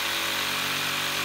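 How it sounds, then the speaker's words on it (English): A jigsaw saws through a wooden board for a seat plate, a loud, continuous buzzing motor whine with rapid blade chatter, close up and alone. "And then take the jigsaw and then"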